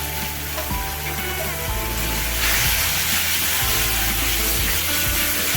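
Prawns sizzling steadily in a hot pan with turmeric and fennel powder, a loud continuous hiss and crackle with occasional stirring scrapes and no talk.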